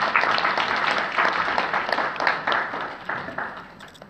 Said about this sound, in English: give a round of applause to the Managing Director, Abdallah Abdul Khalik